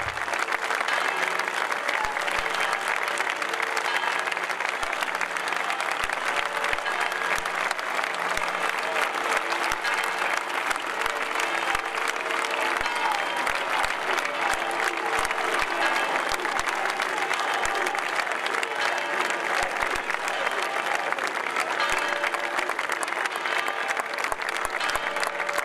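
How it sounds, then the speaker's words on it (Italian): A crowd applauds as a coffin is loaded onto a hearse at a funeral in a Naples neighborhood, continuous dense clapping that stays loud and even for the whole stretch. "la bara, salutata ripetutamente da applausi, è stata caricata sul carro funebre"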